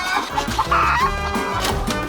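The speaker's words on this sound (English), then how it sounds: "It's a chicken." A chicken clucks and squawks in a busy, uneven series of calls, close and loud, with no one speaking.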